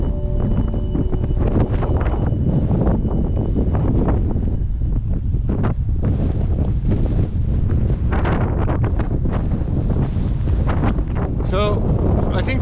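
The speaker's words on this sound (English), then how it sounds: "I feel it's a little bit too windy" Strong, steady wind buffets the microphone in Sorrento on a rainy day, a continuous loud roar with gusty rumble throughout, while people talk faintly underneath.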